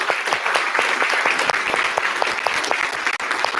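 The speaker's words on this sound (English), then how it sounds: "welcome Michaela Moore with a very heartfelt applause" Audience applause welcoming a speaker at the Dekoloniale Berlin Conference 2024, a sustained round of many hands clapping with distinct individual claps audible, fairly close and steady, with a brief dip near the end.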